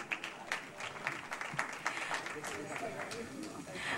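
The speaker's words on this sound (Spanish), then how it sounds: "Un gran aplauso para nuestra querida Nuris de Olio." Audience applause at an international book fair for Dominican women writers, quiet and slightly distant claps forming a steady patter with a few sharper individual hits, a voice faintly underneath.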